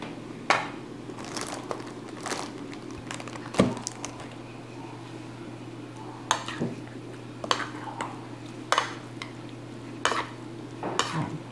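A spoon stirs pork hamonado siomai filling in a bowl with repeated scraping and clinking strokes at an uneven rhythm, close and fairly quiet over a steady background hum.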